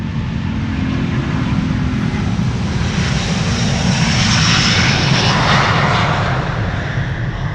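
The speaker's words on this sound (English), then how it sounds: "to the south we have a Delta that is spooling up and is going" Engines of a Delta Airlines Airbus A330neo spool up for takeoff at Amsterdam Schiphol, a dense, steady roar with a deep rumble that grows gradually louder, heard at close range without talk.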